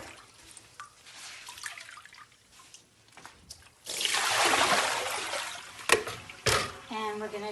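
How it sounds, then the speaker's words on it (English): Water splashes and dribbles as wet tie-dyed fabric is wrung out, a burst of trickling liquid after quieter handling sounds, close by, with a voice talking at times. "I'm going to squeeze all the water out of it."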